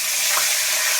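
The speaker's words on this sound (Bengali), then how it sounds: "একটু ভেজে নেবো ভালো করে।" Panch phoron, bay leaf and dried chilli sizzle in hot oil in a kadai, a steady close hiss with faint stirring.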